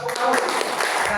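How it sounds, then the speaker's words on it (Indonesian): Brief applause from participants at a teachers' workshop, a short burst of clapping blended with background voices. "Oke, kita kasih tepuk tangan."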